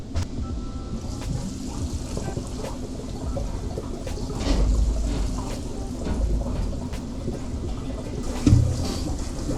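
Hose water pours steadily into a school bus tiny home's water tank, a continuous rushing, splashing wash with a few louder surges and no talking.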